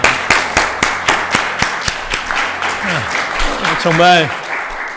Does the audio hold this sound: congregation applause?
yes